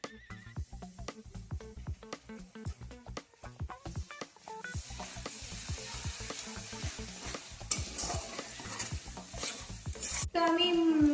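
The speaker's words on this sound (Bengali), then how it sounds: "এই গ্রেভিটার মধ্যে আমি দই একটু দিয়ে দিচ্ছি।" A spoon repeatedly scrapes and taps through masala gravy with yogurt in a pan in a quick uneven rhythm over a soft sizzle that grows steadier and louder toward the end, heard close up.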